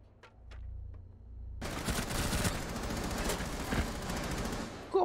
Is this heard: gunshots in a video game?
yes